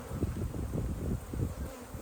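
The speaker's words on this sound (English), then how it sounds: "These bees are not being really friendly right now, but they're not being as mean as they were earlier" Honey bees buzz on hive frames during an August apiary inspection, a dense, close, steady drone with slight pulsing and no pauses.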